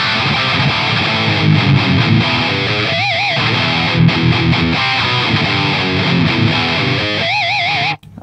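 A loud distorted electric guitar plays a dense riff, with wavering vibrato bends on held notes, before stopping suddenly at the end.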